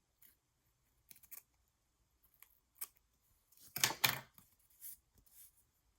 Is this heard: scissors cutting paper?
yes